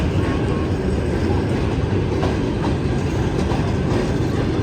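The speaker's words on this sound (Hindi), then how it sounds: "सो गाइस फाइनली अब हमारी ट्रेन आ गई, इसी में हमें जाना है।" A train pulls into a railway station in Kazakhstan, a loud, continuous rumble with rhythmic wheel clatter close by, filling the whole stretch without pause.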